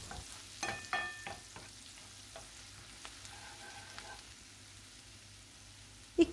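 Tomato paste and red pepper flakes stirred and fried in a pan, with soft sizzling and a few scraping stir strokes near the start, fading to a quiet simmer.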